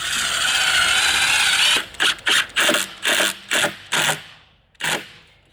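A power drill driving screws into a wooden garden bed frame: one long whirring run, then a rapid series of short bursts as the screw seats, close and loud, with no talk.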